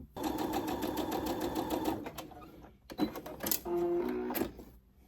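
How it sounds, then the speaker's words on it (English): A sewing machine top stitches fabric for a wristlet pouch in short, rapid rhythmic bursts of mechanical clatter, close and clear, with brief pauses and handling noises between runs. "we're going to top stitch this down each side"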